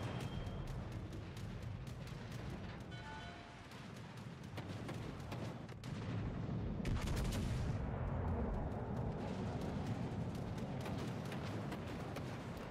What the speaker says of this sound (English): now we have the Richelieu shooting at us with HE